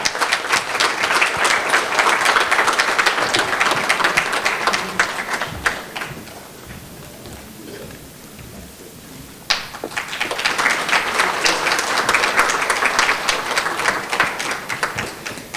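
An audience at a medical symposium award ceremony applauds an anesthesiologist with dense clapping that fades into a quieter lull. A second loud burst of applause then starts abruptly and carries on to the end.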